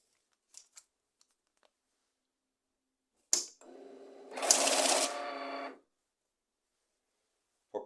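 Magner Hard Cash 956 banknote counter-sorter running briefly, a sharp click followed by a quick whirring, fluttering burst of bills feeding through for a couple of seconds, then quiet, with a few faint clicks before and after.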